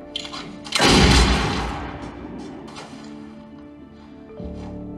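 One loud, booming gunshot from a film duel, fired at ten metres, rings out and echoes away slowly, with softer thuds and a dramatic background score before and after.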